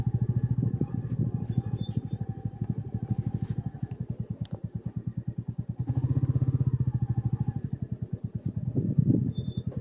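Royal Enfield Meteor 350 motorcycle riding off-road in a mountain valley, a steady thumping single-cylinder engine pulse rising and falling with throttle, close and loud, with some rattling clatter.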